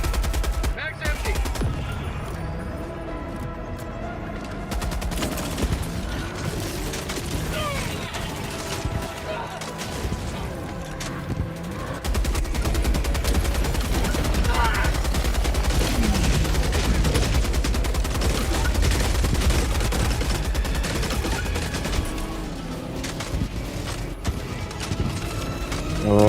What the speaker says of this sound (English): Requesting sentry. Calling down a sentry.